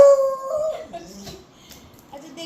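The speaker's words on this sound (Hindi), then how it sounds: "ये क्या देख के भौंक रहा है" A dog barks and howls outdoors, opening with a drawn-out tonal howl that fades into softer whimpering yelps, moderately loud with faint background noise.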